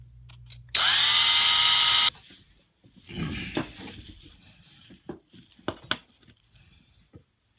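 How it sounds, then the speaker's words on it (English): A drill with a 1/16 bit bores into a Chinese clone of a Manfrotto 323 quick release plate, giving a loud high whine for just over a second, then stops, followed by scattered clicks, clunks and handling noises. "this is a 1/16 bit. And I'm just going to drill straight down"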